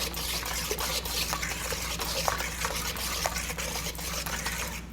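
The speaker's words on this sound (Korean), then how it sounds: "계란이 익지 않도록 여러분 이렇게 방치해 두시면 안 되고 계속 저어 주시면 됩니다." Egg mixture for a jelly roll cake batter being whisked continuously in a bowl, a steady close-up swishing and liquid stirring with faint rhythmic taps against the bowl.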